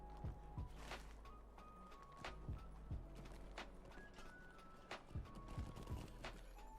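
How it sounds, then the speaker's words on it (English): Horse hooves clip-clop in The Lord of the Rings Online as a festival horse moves around Bree, a series of hollow thuds in irregular pairs over quiet game ambience and soft tones. "So we go on this festival horse."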